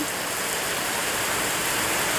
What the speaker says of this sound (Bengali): দেখো এত পরিমাণে বৃষ্টি পড়ছে